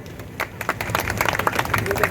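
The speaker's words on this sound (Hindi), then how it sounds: "जब बात अच्छी हो और काबिले तारीफ हो और आपके हक की हो तो ताली बजा दिया करो" An audience at an outdoor political rally breaks into scattered, uneven clapping that thickens into a loose round of applause, with voices mixed in underneath.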